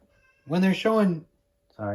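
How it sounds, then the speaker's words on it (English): A cat meows outside a ballpark during a Red Sox–Yankees baseball broadcast, one drawn-out, two-part meow close and clear, followed after a short pause by the start of a second meow. "that was a cat meowing"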